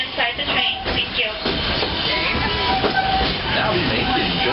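A Disney World ride train runs on its rails with a continuous rumble, rattles and occasional squeals, loud and close, while voices talk over it.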